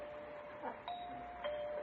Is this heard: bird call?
no